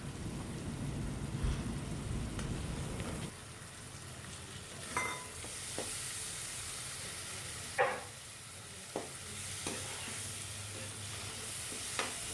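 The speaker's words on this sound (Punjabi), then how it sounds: "ਇਸ ਨੂੰ ਆਪਾਂ ਚੰਗੀ ਤਰ੍ਹਾਂ ਹਿਲਾ ਦੇਵਾਂਗੇ ਇਹਨਾਂ ਟਮਾਟਰਾਂ ਨੂੰ ਆਪਾਂ ਉਦੋਂ ਤੱਕ ਭੁੰਨਾਂਗੇ" Finely chopped tomatoes hit hot spiced oil in a pan, an initial loud hiss settling into steady sizzling frying, with occasional scraping knocks of a spoon stirring.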